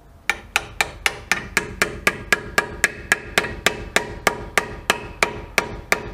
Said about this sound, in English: Now, with our hammer, we gently tap.